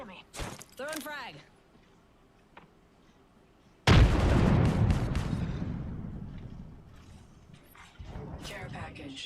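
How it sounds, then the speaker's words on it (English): A frag grenade in a video game goes off in a loud, close blast that rumbles and decays over several seconds, after a voice speaks briefly at the start. "Oh my, an enemy. Throwing frag."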